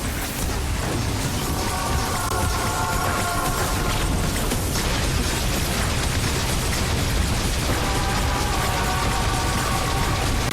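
A boss's Gatling gun attack in Metroid Dread, a dense, unbroken clatter of rapid-fire bursts and booms that stays loud throughout, with faint tonal hums layered under it.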